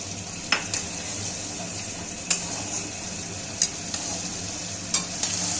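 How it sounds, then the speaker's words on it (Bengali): Paste of ground cumin, ginger and chilli sizzles in hot oil with softened tomato, steady frying hiss with a few sharp scrapes of stirring. "এর মধ্যে সেই জিরে, আদা এবং লঙ্কা যে বেটে রেখেছিলাম সেটা এর মধ্যে দিয়ে দেবো।"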